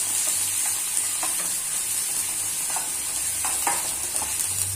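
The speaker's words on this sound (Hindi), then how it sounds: "अब मैं इसमें ऐड कर रही हूँ 1 मीडियम साइज का प्याज जो कि मैंने बारीक काट लिया है।" Finely chopped onion and garlic sauté in a pan with a steady close sizzle, punctuated by occasional scraping and stirring strokes.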